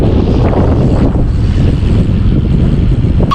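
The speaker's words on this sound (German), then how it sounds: "Es ist sehr windig" Strong wind on Palawan, Philippines buffets the microphone, producing a loud, continuous low rumble and roar with no pauses.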